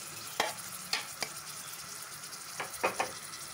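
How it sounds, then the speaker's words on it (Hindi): A spoon stirs fried rice with chillies and ginger in a hot pan, giving a few sharp scraping knocks over a soft, steady sizzle. "अब हम इसे अच्छे से मिक्स कर लेते हैं।"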